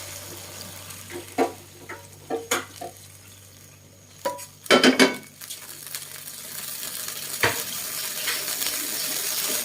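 Beef tipped into a reheating wok and stir-fried, giving a burst of loud sizzling and clattering stirring midway, then a steady hiss of frying with occasional scrapes; no talking.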